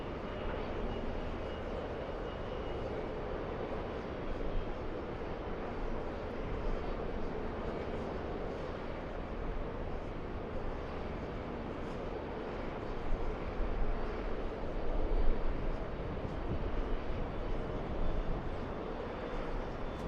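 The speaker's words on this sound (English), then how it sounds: "Go for the Delta Airlines A321. This one parking at the Alpha gates." A Delta Airlines Airbus A321 taxis toward the Alpha gates at Los Angeles airport, its engines producing a continuous broadband roar that swells slightly toward the middle and stays steady, with no talking.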